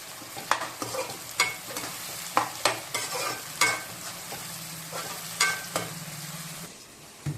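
Chicken frying with onions in a pan, a steady low sizzle under repeated sharp clacks of a spoon stirring, fairly quiet and without talk.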